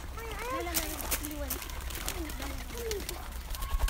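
A pigeon or dove coos repeatedly at a resort farm, with soft rising and falling calls in a steady series, fairly close over faint outdoor background noise.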